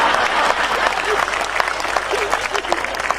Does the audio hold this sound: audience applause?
yes